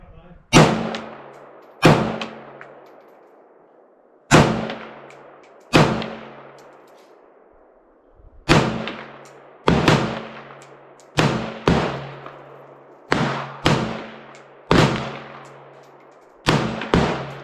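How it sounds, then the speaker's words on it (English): Bear Creek Arsenal 7.62x39 AR rifle fired at an outdoor range, about a dozen loud, sharp reports with ringing decay, spaced irregularly and sometimes in quick pairs, with no talking. "it's back to shooting"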